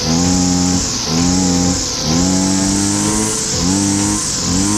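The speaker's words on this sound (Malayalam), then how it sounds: "ഇനി ചോക്ക് താത്തി കൊടുത്തുകൊണ്ട് വേണം ആക്സിലേറ്റർ കൊടുക്കാൻ." Nikko brush cutter two-stroke engine revving up after starting, a loud, buzzy whine that rises and dips in repeated surges of throttle, close and continuous with no talk.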